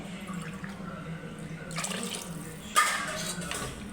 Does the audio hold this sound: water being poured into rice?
yes